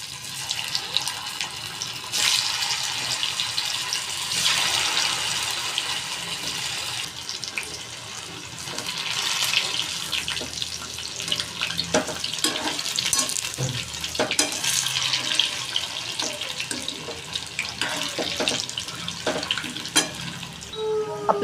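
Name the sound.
aluwadi frying in hot oil in a kadhai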